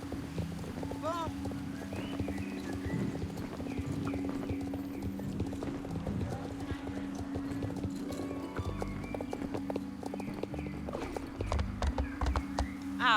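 Horse hooves clip-clop steadily in the Star Stable video game, a rhythmic series of hoofbeats with occasional whinnies and background game music, while people talk over it.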